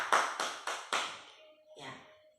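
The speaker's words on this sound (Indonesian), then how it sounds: "Tepuk tangan buat kita." Children in a Grade 7 classroom clap in four sharp, evenly spaced bursts of applause, followed by a brief murmur of voices and a faint sustained tone.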